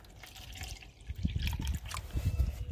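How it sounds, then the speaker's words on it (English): Water trickles and pours into a plastic container to mix plaster of Paris inside a car, a soft, fairly faint splashing that grows slightly fuller partway through. "we take a little water"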